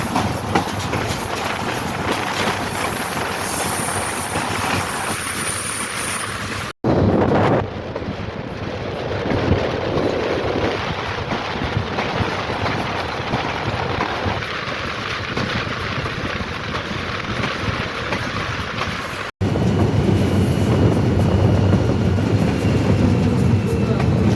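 A Pakistan Railways goods train runs fast on a downhill track from Hirok station, with continuous rumbling, clattering wheels and wind buffeting heard from on board, someone speaking over it.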